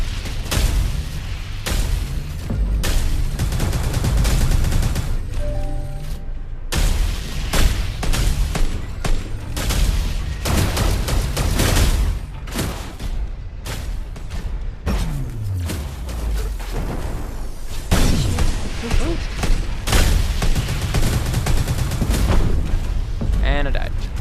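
Mech weapons fire in the video game World of Mechs as a dense stream of loud, repeated gunfire bursts and heavy booms that continue almost without a break, with game voice sounds mixed in.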